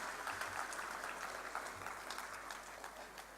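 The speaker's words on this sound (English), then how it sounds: "A big round of applause to all of them." An audience applauds at a middle school annual day at Sindhi High School, Hebbal. The clapping is faint and distant, a soft continuous patter that holds steady throughout.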